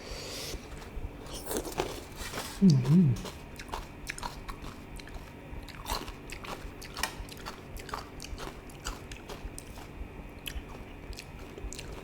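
Crunchy bilimbi fruit bitten and chewed in a late-night eating session, with crisp crackling bites and a stream of close, moist chewing clicks over a quiet background.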